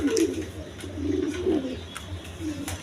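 Pigeons cooing in a pigeon sale setting, with a running breeding pair of red-marked birds present; soft repeated low coos roll on steadily and close by, with a few sharp clicks over a low background hum.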